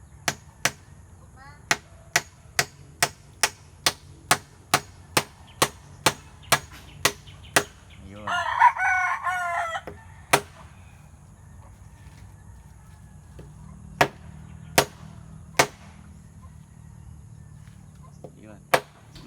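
Sharp hammer blows strike nails in a steady run of a dozen or so while building a chicken nest, pause while a chicken clucks nearby, then resume as a few spaced knocks.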